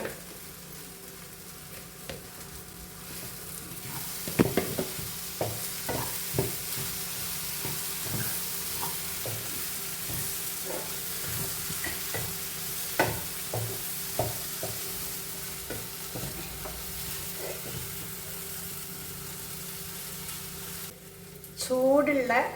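Soya chunks masala curry cooks in a pan with coconut oil, a steady sizzle and hiss punctuated by scattered scraping stirs and spoon knocks, close and continuous, with a brief louder burst near the end.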